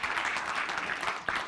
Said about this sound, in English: Big round of applause to Estev.